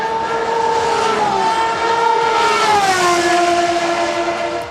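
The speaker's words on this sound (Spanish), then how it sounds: "los coches de Aston Martin que, si bien están muy lejos de ser competitivos, tienen el mejor sonido de los hypercars" Aston Martin hypercars racing, a loud sustained engine whine with rising and falling pitch as the cars pass, strong and close.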